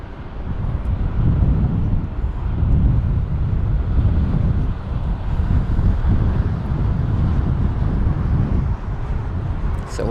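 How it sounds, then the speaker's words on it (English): Strong wind buffets the microphone at London Heathrow airport with a steady low roar and gusty swells throughout. "It is awful windy today."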